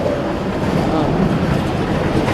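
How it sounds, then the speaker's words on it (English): The Durango and Silverton train running through Colorado makes a steady, loud, close rumble with broadband rolling noise and no clear breaks. "train ride in Colorado"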